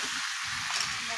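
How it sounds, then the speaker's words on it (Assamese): Spice masala with turmeric and salt frying in a pan crackles with a brief, even, close sizzle. "এতিয়া হৈ গ'লে এয়া মছলা দি ভাজিছোঁ"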